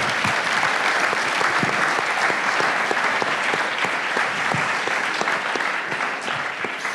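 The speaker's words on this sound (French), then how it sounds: "Vous pouvez l'applaudir quand même" Audience applause at a round-table discussion on personal data processing in the big data era, steady and full-bodied clapping throughout, loud and close, with no talk over it.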